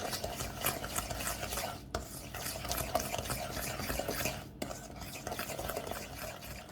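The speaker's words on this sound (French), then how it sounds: "on va mélanger un petit peu pour faire fondre les cristaux de sucre" A spoon or whisk mixing butter and sugar in a bowl for a peach almond tart, a soft, steady rhythmic scraping and swishing with two short pauses.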